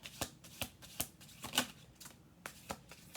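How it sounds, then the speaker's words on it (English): Tarot cards being shuffled by hand, a series of soft, sharp riffling snaps at an uneven rhythm, close but quiet, with no talking. "We'll do one more shuffle through on this."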